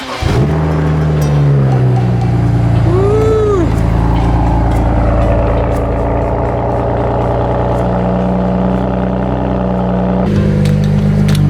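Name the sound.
BMW car engine running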